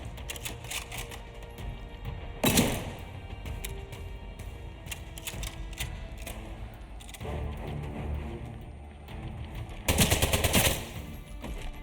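Bursts of automatic gunfire in a video game, with two loud dense volleys and scattered lighter shots in between over a low background, fairly close and with no speech.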